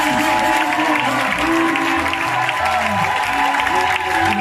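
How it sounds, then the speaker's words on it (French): A church congregation at a Sunday service bursts into loud, dense applause and cheering, sustained clapping filling the room with voices and shouts mixed throughout. "Nous l'acclamons très fort."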